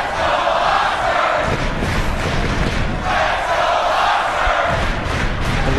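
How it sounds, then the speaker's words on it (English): A crowd at a Mosconi Cup pool match cheers and roars loudly and continuously, with thumping and stamping underneath, a packed arena in full voice. "Listen to the crowd here."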